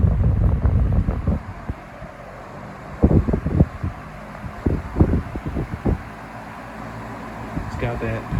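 Lasko 18-inch high velocity fan, model 2518QM, running on speed 2, gives a steady airy roar that fills the clip, with a few low thumps and bumps close to the microphone.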